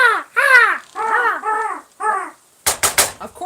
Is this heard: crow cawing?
yes